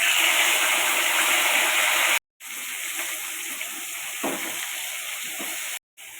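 Boiled taro leaves dropped into a pan with chopped garlic hiss into a loud, steady sizzle that runs throughout, broken by two brief silent gaps.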